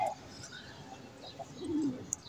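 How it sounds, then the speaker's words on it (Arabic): A domestic pigeon coos close by in a few low, throaty, rasping bursts, fairly faint and short, with a sharp chirp near the end. "ايه اللي بيخلي فرد الحمام يجعر ويشخور بالشكل ده؟"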